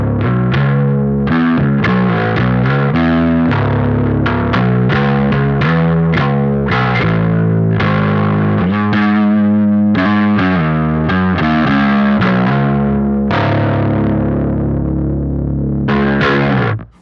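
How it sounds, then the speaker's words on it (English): Electric bass through a DID Bower Power pedal with every knob at noon, a driven, gritty tone with chorus-like shimmer as a continuous run of plucked notes and held tones plays loud and up close, no voices. "hear what the Bauer Power sounds like on bass with everything at noon"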